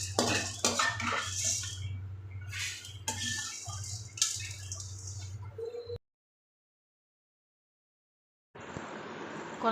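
Black peppercorns dry-roast in a pan, with a close metallic scraping and clinking of a spatula stirring the rattling seeds for several seconds, then a pause and a soft resumed hiss.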